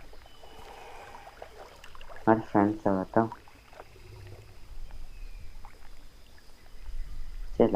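A crocodile swims in The Isle video game, water sloshing and swirling softly and steadily throughout, with a voice talking briefly over it in the middle.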